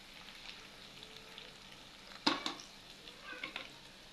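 Fried eggs with spices and salt are stirred in a pan: a faint, quiet sizzle with a sharp spatula clack and a few softer scrapes.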